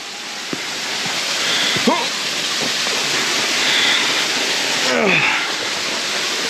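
A steady, close roar of rushing water from a waterfall fills the whole clip, with a few brief vocal sounds rising over it.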